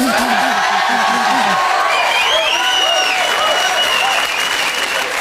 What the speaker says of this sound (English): A big round of applause for MC Hammer